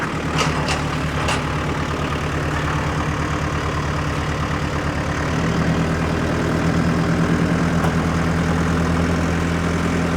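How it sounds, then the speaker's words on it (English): Tractor engine idling close by with a steady low rumble, a few sharp knocks near the start, and the engine note deepening and growing slightly louder about halfway through. "Does he even know how to start the tractor?"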